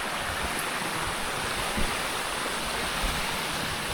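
A waterfall in jungle near Badlapur on the Waghbil trek pours in a steady, dense broadband roar, close and unbroken, with no voices over it.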